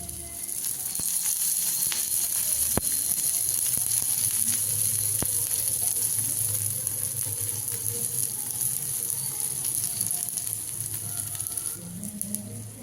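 A vegetable egg dosa fries in oil on a hot pan, giving a steady, close hiss and crackle with occasional sharp pops throughout, no talking.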